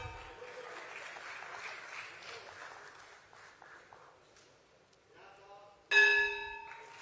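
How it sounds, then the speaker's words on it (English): Sustained applause from a crowd at the BSE stock exchange listing ceremony for Jio Financial Services, steady for several seconds and then fading, before a bright bell rings out loudly near the end. "You can keep the claps going."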